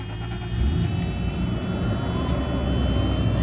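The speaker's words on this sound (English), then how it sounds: "Let's go ahead and start this thing up." A 1989 Mercedes 560 SEL idles after starting, a steady, loud low-frequency engine rumble that continues without a break through the whole stretch.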